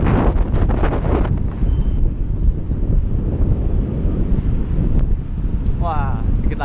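Heavy wind noise buffets the microphone of a rider on a motorbike trip toward Mount Sumbing, a loud continuous rushing roar with muffled speech underneath.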